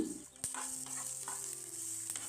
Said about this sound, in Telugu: బాండ్లీలోకి పచ్చిమిర్చి వేసుకొని వేపుకోవాలి పచ్చిమిర్చిలోకి కొద్దిగా ఆయిల్ వేసుకుని వేపుకోవాలి